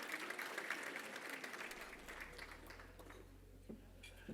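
An audience claps at an awards ceremony, a dense wash of hand claps that gradually thins and fades over a few seconds, with a low hum rising underneath.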